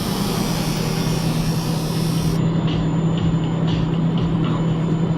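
A V8 car engine rumbles and revs in a steady, fairly loud drone with no clear rise in pitch, running alone without speech.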